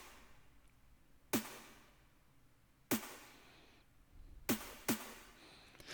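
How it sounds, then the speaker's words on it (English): Backup snare claps from a sample pack: four sharp clap hits with short tails, spaced unevenly with the last two closer together, fairly quiet and heard alone. "Then we have those backup snare claps"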